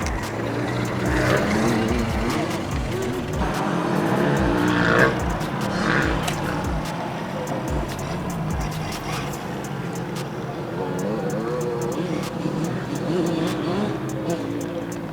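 Small RC car running on rechargeable batteries, its electric motor whirring and revving up and down with scattered clicks and tire scrapes, close by, while people talk over it.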